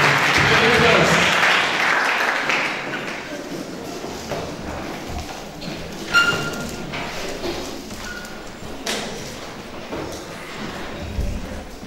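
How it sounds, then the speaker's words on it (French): A church congregation applauds for the children, a broad wash of clapping loudest at the start and thinning out, with scattered thumps and voices moving through the room afterward. "Acclamons pour nos enfants."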